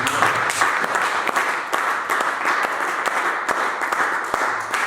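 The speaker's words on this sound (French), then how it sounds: "Acclame Jésus, acclame le Seigneur." A church congregation claps loudly and steadily, a dense nearby wash of hands with sharp individual claps standing out, continuing without pause and without talk over it.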